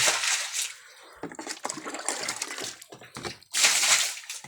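Water splashes and hisses in uneven bursts, like a tap running into a basin, with brief pauses before a stronger gush near the end.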